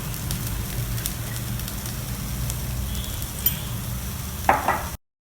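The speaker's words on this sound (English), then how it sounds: "Mix everything together and allow it to cook for a couple of minutes till done." Vegetables seasoned with sambar powder and salt cook in a pan with a soft, steady sizzle, then a single louder stirring scrape near the end before the sound cuts off.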